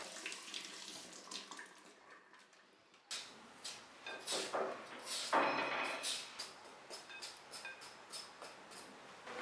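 Tap water running and splashing as potatoes are washed in a kitchen sink, with irregular sloshing bursts and handling noises after a quieter opening stretch, fairly close.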